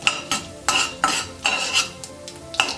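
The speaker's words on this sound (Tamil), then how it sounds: "கடுகு வெடிக்குது." Mustard seeds splutter in hot oil: sharp crackling pops and spatters burst repeatedly from a hot pan, close by, with scraping clinks in between.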